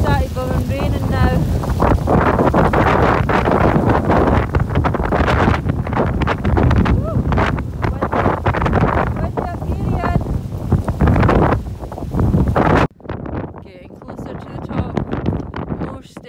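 Heavy wind and blowing rain buffet the microphone in loud, roaring gusts on a hillside climb toward the summit of Ben A'an, with voices talking now and then and a sudden cut to quieter rumbling near the end.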